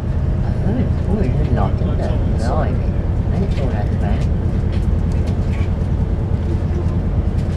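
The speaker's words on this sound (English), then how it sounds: "Got the lock train here." A train rumbles through Warrington Bank Quay station, a loud, constant low-pitched roar filling the whole stretch, with a voice speaking over it now and then.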